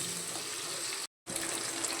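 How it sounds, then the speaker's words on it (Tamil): Shallots sautéing in plenty of oil in a pan, heard as a soft, steady, sizzling hiss that cuts out completely for a moment and then resumes at the same level. "சின்ன வெங்காயத்தை ஒரு 50-50 வரைக்கும் நல்லா கொஞ்சம் வதக்கிட்டே இருங்க"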